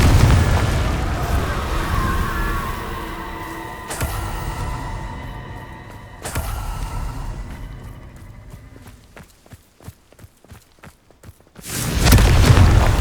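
Confringo blasting spells go off in Hogwarts Legacy as heavy booming explosions, with sharp blasts near four and six seconds, a rapid burst of crackling pops afterward, and a final loud rumbling eruption near the end.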